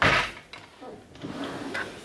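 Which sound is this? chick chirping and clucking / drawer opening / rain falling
drawer opening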